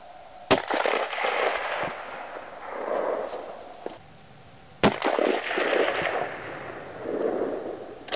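30-06 rifle firing Hornady 180 grain spire point rounds at a 300-yard range: two sharp, loud reports about four seconds apart, each followed by a rolling echo that fades out, with no talking.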